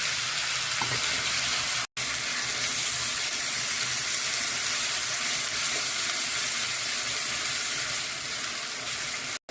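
Chopped onion hits hot oil with whole garam masala and cumin, a loud, dense, continuous sizzle filling the space close up and broken only by two brief cuts.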